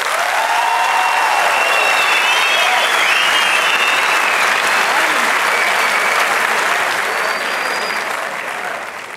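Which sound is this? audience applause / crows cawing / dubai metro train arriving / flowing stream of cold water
audience applause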